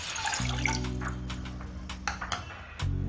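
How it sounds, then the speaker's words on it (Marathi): A cup of water poured into a pot on a gas stove while making jowar chakli dough, a steady splashing and gurgling pour with a low hollow fill tone, near and alone. "आता आपल्याला यामध्ये एक कप पाणी घालून घ्यायचंय"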